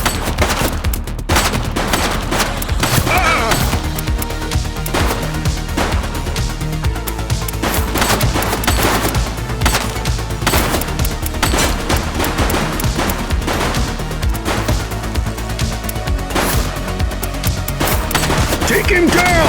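Dense, continuous gunfire from the police video game The Precinct, rapid overlapping shots and bursts crackling loudly and close throughout with no pauses.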